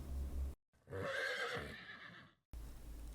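A horse neighs loudly and close, a long shrill whinny with a rising and falling pitch, alone between brief breaks of silence.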